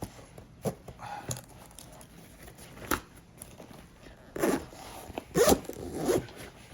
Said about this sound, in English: this could be an issue of the zippers just breaking in